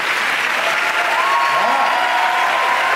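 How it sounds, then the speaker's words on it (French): An audience applauds at the Cannes 2022 Un Certain Regard closing ceremony, a dense, steady wash of clapping that fills the hall, with a faint voice sounding through it. "Chaque année, ça applaudit beaucoup plus fort que ça."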